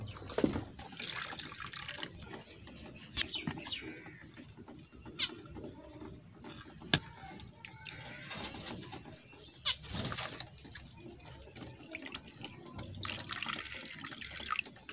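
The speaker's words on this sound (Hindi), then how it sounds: "इनको पानी तो डाल दें" Water trickling and splashing as it is poured into a container for caged pet birds, with faint bird calls and sharp clinks nearby, no talking.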